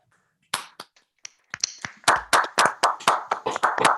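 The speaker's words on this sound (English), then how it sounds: "Let's give them all a round of applause." Claps ring out at an academic talk, starting as a few scattered, tentative hits and then building into a brisk, uneven round of clapping from a small audience nearby.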